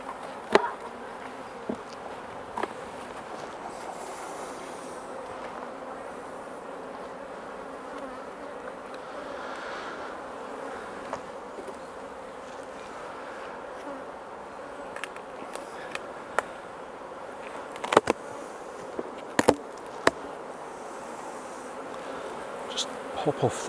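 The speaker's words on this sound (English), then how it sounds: "we can just have a look at what the bees are doing in here" Honey bees buzzing inside an open beehive during a late July inspection, a steady soft hum close by, broken by occasional sharp clicks and knocks of hive parts being handled.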